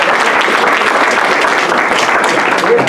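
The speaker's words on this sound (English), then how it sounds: "Let's give him a round of applause." A banquet audience gives a loud round of applause, dense continuous clapping at full volume from start to finish, with no voices standing out.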